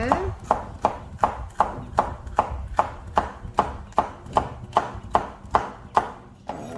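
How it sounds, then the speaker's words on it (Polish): A knife chopping bell pepper on a cutting board in a home kitchen, about a dozen crisp, evenly spaced chops at a brisk steady rhythm, close and clear with no talking. "kroimy paprykę"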